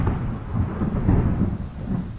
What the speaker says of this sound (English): It's raining outside the Abernathy building.